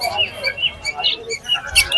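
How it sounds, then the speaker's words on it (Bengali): Lovebirds of various colour mutations at a pigeon and bird market chirp in quick, overlapping bursts, bright and close, with a few sharper calls and some faint voices underneath. "বিভিন্ন রকম মিউটেশনের লাভবার্ড আছে এগুলো"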